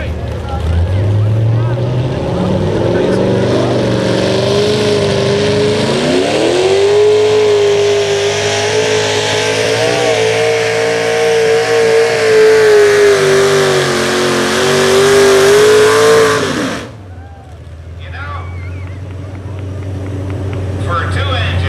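Powerful gasoline engines of a modified pulling tractor, two engines on a single carburetor, roar and rev at high pitch for a long sustained run, loud and close, then cut off abruptly to a quieter rumble.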